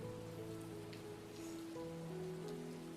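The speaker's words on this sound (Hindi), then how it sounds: "लेकिन अभी बारिश भी हो रही है, आप भीग जाओगे, बीमार पड़ जाओगे।" Rain falls steadily, with a soft continuous hiss of drops hitting surfaces and faint sustained musical tones underneath, and no voices.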